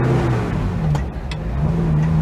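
The engine of a 1975 Mitsubishi Colt 1400 Delica minibus accelerates on the road, a steady mid-pitched hum that rises and dips briefly before pulling on, heard from inside over road noise.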